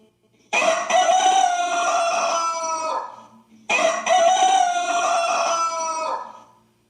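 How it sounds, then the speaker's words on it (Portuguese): A rooster crows twice in a row, each call loud, close and long with a drawn-out tail, separated by a short pause and with no voices around it. "E o galo cantou, crianças."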